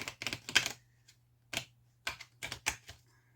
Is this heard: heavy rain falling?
no